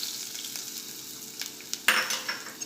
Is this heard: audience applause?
no